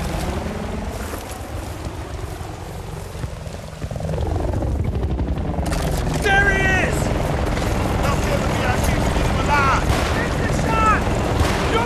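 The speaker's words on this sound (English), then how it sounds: "that chopper's gotta be for him" A military helicopter in Battlefield: Bad Company 2 thrums steadily under battle noise, its pitch shifting as it passes, with shouted voices and scattered gunfire layered over the continuous rotor drone.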